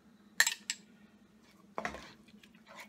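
A spoon clinks against a bowl while whole milk yogurt is added to chicken saag, two bright metallic taps early on, then a louder scrape and clatter, with a faint low hum underneath.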